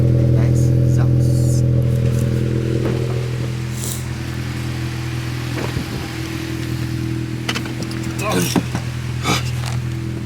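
A 10th-generation Honda Civic Si fitted with a Skunk2 Alpha Series downpipe and frontpipe idles steadily up close in cold weather, a deep constant drone running throughout while people talk over it.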